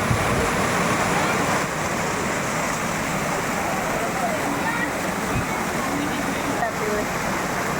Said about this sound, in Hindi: यह है यहाँ का प्यारा सा झरना